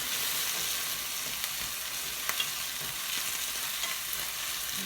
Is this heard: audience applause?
no